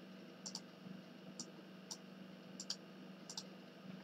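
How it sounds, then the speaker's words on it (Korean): Quiet, sharp computer mouse clicks during a recorded online lecture, often in quick pairs, scattered irregularly over a low steady hum. "띡띡 소리 나는 거는 내 마우스 클릭 소리더라고"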